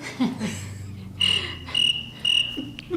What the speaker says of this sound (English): Crickets, please.